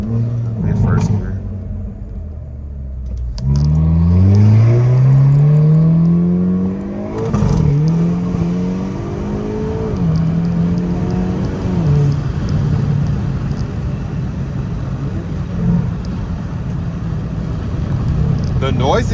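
Hyundai Kona N engine revving hard through the gears while accelerating, rising and falling whine with sharp pops between shifts, loud and close from inside the car, with a voice talking over it.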